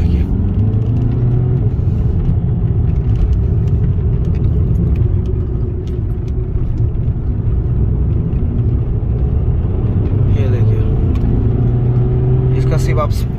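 A Skoda Superb accelerating hard after sitting unused for five months, with a steady, loud engine rumble building throughout and someone talking over it.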